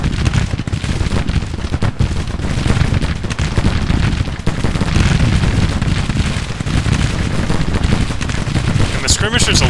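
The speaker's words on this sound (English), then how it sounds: "Gunfire, after all, is a bit loud." Battle gunfire from the Civil War strategy game Grand Tactician: The Civil War rattles in dense, continuous volleys of loud cracks, with a voice talking over it.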